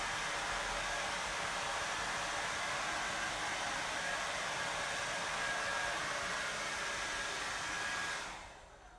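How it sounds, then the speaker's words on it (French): A hair dryer runs with a steady, loud whooshing roar and faint whine, then powers down near the end. "Vous ne trouvez pas qu'il est bruyant avec son sèche-cheveux?"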